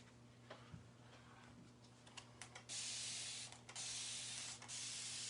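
Transfer spray squirted onto a pie decoration: a few soft clicks, then steady hissing bursts from a nearby spray can that stop and start, over a low background hum.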